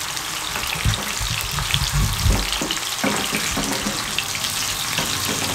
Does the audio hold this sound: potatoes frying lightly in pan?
yes